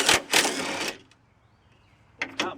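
A 14 mm socket wrench unbolts a bolt on a 2006 Honda Element: two quick bursts of ratcheting clicks, a short pause, then two more brief ratchet bursts, close and fairly loud.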